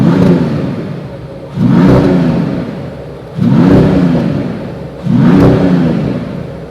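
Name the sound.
Mercedes E53 AMG hybrid six-cylinder engine revving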